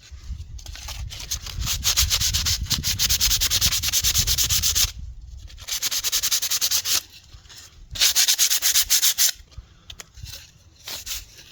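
Sandpaper rubbed inside a hollow wooden branch flute: loud, close, rhythmic scratchy strokes that run in long bursts, broken by a few short pauses.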